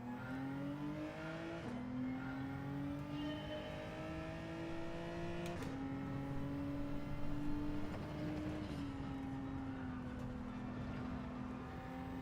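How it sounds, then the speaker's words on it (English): A car engine in a video game holds a steady drone throughout, with its pitch shifting slightly as it revs and changes gear, running continuously in the background with no talk. "Is it okay with the engine going in the background?"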